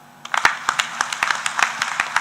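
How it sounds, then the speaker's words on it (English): A conference audience at the East African Petroleum Conference & Exhibition 2023 breaks into scattered applause, with sharp individual hand claps building into an uneven, fairly close clatter. "Ladies and gentlemen, a round of applause"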